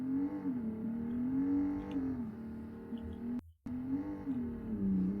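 A car engine revs and accelerates in a BeamNG.drive drag race, a steady, rising engine drone that cuts out sharply for a moment before it resumes.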